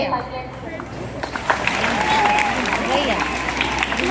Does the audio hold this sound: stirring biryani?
no